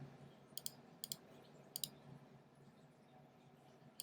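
Several crisp, quiet mouse clicks, mostly in double taps, spaced out over a faint steady room hum.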